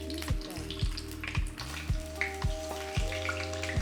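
Eggplant browns in a frying pan with a soft sizzle under a rhythmic series of low thumps repeating about every half second, nearby and moderately loud.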